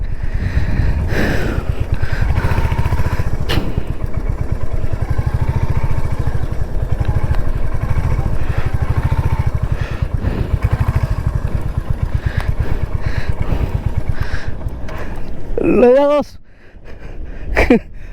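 A motorcycle ridden on a road by the sea, its engine droning steadily and loudly for most of the ride, with wind buffeting and a brief voice near the end as the engine noise drops away.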